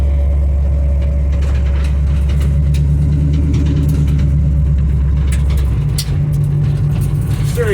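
An old 1955 car engine runs while driving, a steady low rumble with a continuous mid hum, close and constant, ending with a brief change near the end.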